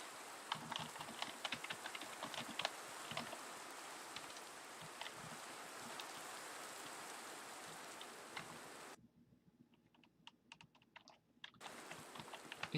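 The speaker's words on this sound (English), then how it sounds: "No, it's raining." Rain falls steadily in the video game Minecraft, a soft continuous hiss with scattered patter and clicks, briefly dropping quieter near the end before returning.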